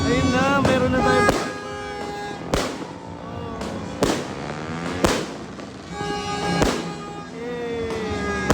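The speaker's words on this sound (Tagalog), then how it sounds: "May fireworks kami guys." New Year fireworks bursting at a year-end celebration in Mapandan, Pangasinan, with sharp explosions recurring every second or so over a constant crackling, festive din and voices in the crowd.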